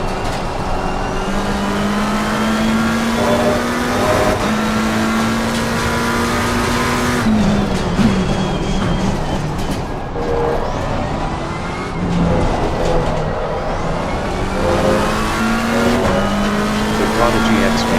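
Race car engine in a sim racing game at Silverstone, a loud continuous drone that rises in pitch through the gears and drops at shifts and braking, with tyre noise and a voice talking over it throughout.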